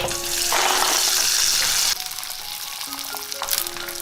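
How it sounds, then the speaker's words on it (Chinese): Tofu skin sticks dropped into hot oil for deep-frying, a loud rushing sizzle that drops sharply after two seconds to a quieter bubbling fry with faint clinks. "油温6、7成热的时候，把腐竹放进来炸"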